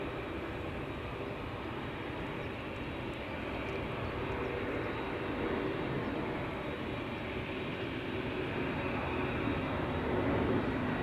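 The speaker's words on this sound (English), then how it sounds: "Privilege stall flying for KLM on its way to Madrid, A321." A KLM Airbus A321 bound for Madrid takes off from Schiphol's Polderbaan runway, a steady, moderately distant jet roar swelling slightly toward the end, with no voices.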